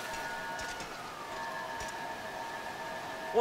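A faint, steady police siren tone in a video game wails under a soft hiss of rain-like background noise, distant and unchanging throughout, with no voices.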